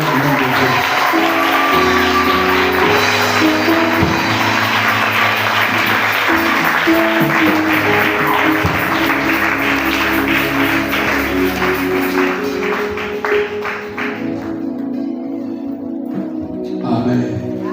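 A church congregation applauds and cheers an apostle at a fasting and prayer service, the sustained dense clapping close and loud over music, thinning out toward the end.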